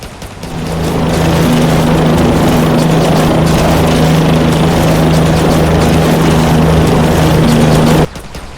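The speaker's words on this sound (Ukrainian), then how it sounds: "Е, гелікоптер." A helicopter in the zombie shooter game Yet Another Zombie Survivors hovers with a loud, steady rotor drone that fades in over the first second, holds evenly, then cuts off abruptly near the end.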